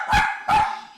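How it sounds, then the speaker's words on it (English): Three pet dogs in a one-story home in Arlington bark, two sharp, loud barks close by with a short gap between them, then the start of a third. "Her 3 dogs keep her company."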